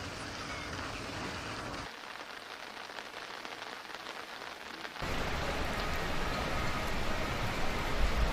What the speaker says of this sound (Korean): 현재 내리고 있는 비는 밤에 약하게 내리다가 점차 멎을 것으로 예견된다고 합니다